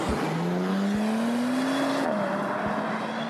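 Bentley Continental GT with a 6-litre twin-turbocharged W12 driving, a steady engine note rising in pitch then dropping at a gear change, loud and close over continuous road and wind noise, with no talk.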